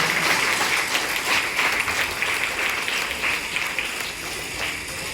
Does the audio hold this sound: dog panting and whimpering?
no